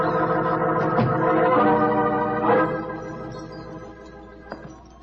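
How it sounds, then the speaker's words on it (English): Chinese wind bells ring out in a radio drama effect, several metallic strikes overlapping and sustaining, then decaying quieter with a couple of faint late chimes, no talking. "There was a tinkle of Chinese wind bells as I walked towards a long, low room."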